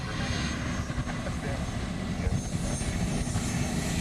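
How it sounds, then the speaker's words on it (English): Aircraft engine run-up at Honolulu airport at night, a steady broadband roar and rumble that holds throughout without break, with faint talk or background voices beneath it. "It was doing engine run-ups down there"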